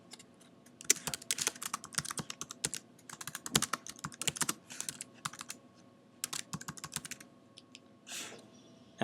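Someone types an issue description on a computer keyboard, producing quiet, close bursts of rapid key clicks with short pauses between words, with no talking.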